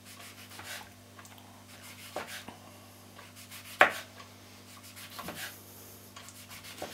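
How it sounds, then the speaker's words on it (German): A knife slices fresh button mushrooms into thin slices on a cutting board, giving a scattering of soft cutting strokes and one sharper knock over a quiet kitchen hum. "Und dann machen wir das so, machen wir da hier möglichst dünne Scheiben."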